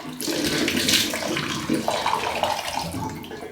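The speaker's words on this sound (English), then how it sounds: "I always wash them first and then I splash water onto my face" Water splashed onto a face at a bathroom sink during an evening skin care routine, a loud steady rush and splatter of running water close by.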